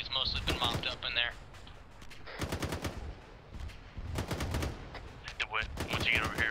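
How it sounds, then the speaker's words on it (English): Rapid bursts of rifle and machine-gun fire in an Arma military video game battle, suppressing an enemy bunker, crackle in repeated volleys with radio chatter from players talking over them. "As we're suppressing that bunker in the back, that's firing up at the team on the hill."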